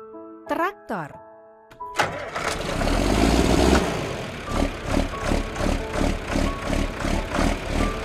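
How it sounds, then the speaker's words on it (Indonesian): Tractor engine in a children's educational vehicle game, cranking to a start after a short voice, then a steady loud rhythmic chugging idle with regular pulses. "Traktor."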